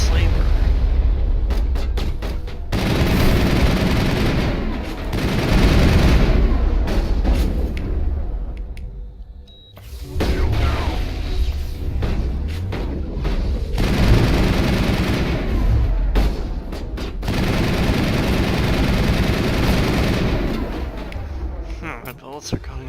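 Rapid bursts of automatic gunfire from the sci-fi shooter Mass Effect rattle almost continuously, with short breaks, while someone talks over the shooting throughout.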